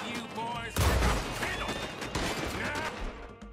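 A shotgun blasts in Red Dead Redemption 2, one loud broadband boom near the start followed by a dense, ringing stretch of gunfire and clatter that tails off.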